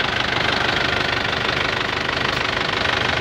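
2007 Isuzu Panther LS Turbo engine running, a close, steady rough idle with a rapid knocking diesel clatter throughout, no voices.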